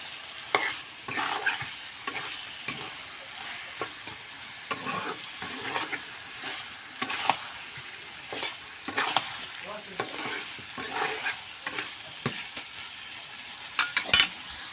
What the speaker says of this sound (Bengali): এখন ভালো করে নেড়ে চেড়ে নেব,